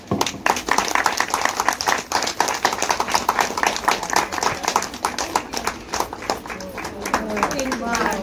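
A small group at a terrace-garden meet claps together during a felicitation, a dense, lively patter of hands kept up for several seconds with voices talking over it.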